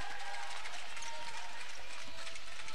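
Parents applaud in a gym during a youth club basketball tournament game between lower-grade teams Mobis A and KGC A. Steady, dense clapping and crowd noise run beneath the talk.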